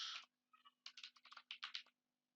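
Quick bursts of computer keyboard typing, close and crisp, sound in an irregular run of keystrokes with short pauses between, entering a command in a quiet room.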